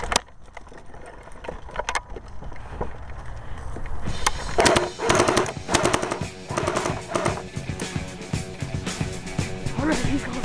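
Airsoft gun fired outdoors during a team ambush game, a rapid volley of sharp snapping shots that grows dense and loud partway through, with scattered cracks and movement noise around it.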